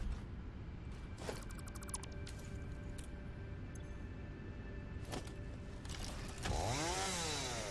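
Chainsaw in the video game Satisfactory buzzing at a steady drone beneath other game effects, including short whirring tones and a rising, warbling sweep near the end.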